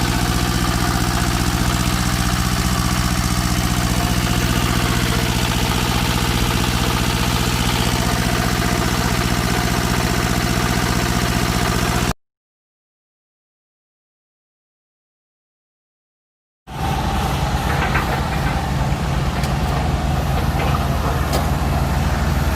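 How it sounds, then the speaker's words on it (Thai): Two-cylinder diesel engine running on a used Japanese rice thresher, a loud, steady, close idle with a low throbbing drone, cut off by a stretch of silence before it resumes just as loud. "เครื่องดีเซลนะครับผม สองสูบนะครับผม"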